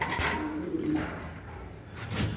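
Pet pigeons cooing close by in soft, low, throaty bursts, a few calls spread across a couple of seconds with no talk.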